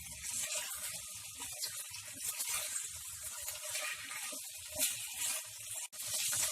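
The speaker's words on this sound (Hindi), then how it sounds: "हाई फ्लेम पे चिकन को अच्छे से भून लें।" Chicken pieces searing in a pan over a high flame for a curry, giving a steady broadband sizzle and hiss throughout with small crackling pops, close and continuous with no voices.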